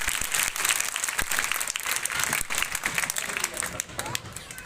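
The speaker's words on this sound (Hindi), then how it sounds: "तालियों के साथ स्वागत करें।" Applause from a crowd at a school bicycle distribution ceremony, dense clapping filling the space as a speaker is welcomed, with voices faintly present underneath.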